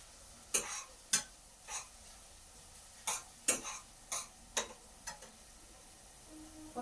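Onions stirred in a pan over a wood fire for börek filling, giving about a dozen sharp, separate scraping clacks at irregular intervals over a quiet background, with no talking.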